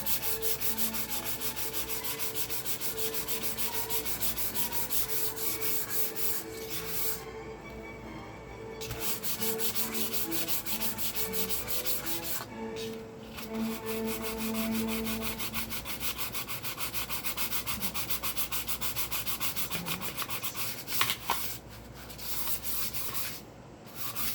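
A wooden Fender Jazz Bass body is sanded by hand before being dyed. Continuous close rubbing and scratching goes on in long steady passes, with a few short pauses between stretches.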